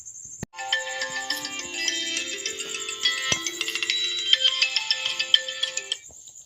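A phone ringtone plays loudly and alone: a bright electronic melody that starts after a brief click and runs continuously with rising intensity.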